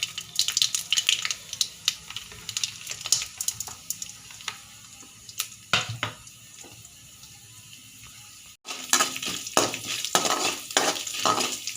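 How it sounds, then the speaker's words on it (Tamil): Chana dal and urad dal frying in hot oil for mutton masala fried rice give a crackling sizzle with scraping stirs, quieter at first, then jumping louder after a brief gap as more is stirred in. "எண்ணெய் காஞ்சதே கடலப்பருப்பு, உளுத்தம்பருப்பு இதெல்லாம் போடுறோம்."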